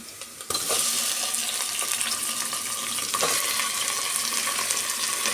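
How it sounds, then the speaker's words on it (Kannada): Chicken pieces are added to hot oil and fry, giving a loud, steady sizzle with scraping and stirring clatter throughout, no voices. "ನೋಡಿ ಈಗ ನಾನು ಚಿಕನ್ ಸೇರಿಸ್ಕೊತಾ ಇದ್ದೀನಿ"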